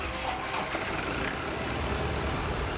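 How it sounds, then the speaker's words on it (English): A car engine idles with a steady low rumble and a faint mechanical hum, holding an even level throughout, with leak tester pipes fitted to the injector return line. "Start the engine"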